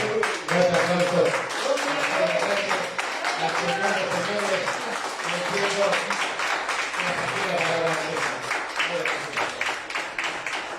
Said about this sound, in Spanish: Nuestro aplauso.